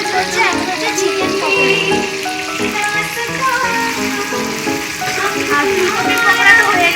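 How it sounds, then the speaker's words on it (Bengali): Chicken pakoras deep fry in oil at a neighbourhood picnic, a steady loud sizzle that runs throughout under people talking nearby. "এখানে আমাদের পকোড়া ভাজা চলছে"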